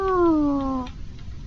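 A person imitates a cat with a single drawn-out, falling meow voiced up close, followed by a quiet pause.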